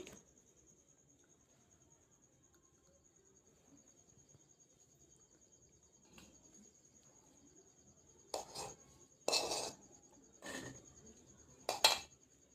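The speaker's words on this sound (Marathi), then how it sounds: "कटिंग करताना जे मार्किंग आहे ते व्यवस्थित असं आपल्याला कटिंग करून घ्यायचं आहे" Scissors cut fabric for a blouse katori (cup) along marked lines. After a long quiet stretch, a few crisp snipping bursts arrive close together near the end.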